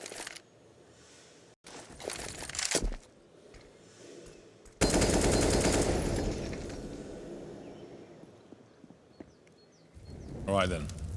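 Counter-Strike gunfire on the Inferno map during an ESL Challenger Melbourne match, bursts of rapid shots and clattering impacts with a loud sustained barrage midway, under excited caster commentary.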